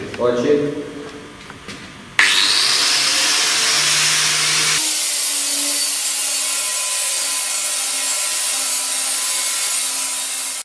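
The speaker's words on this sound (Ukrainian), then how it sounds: "Після зачистки беремо болгарочку і відполіровуємо ту частину" An angle grinder polishes a steel plate, spinning up with a sharp whine after a brief scrape, then holding a loud, continuous high-pitched grinding hiss that cuts off abruptly at the end.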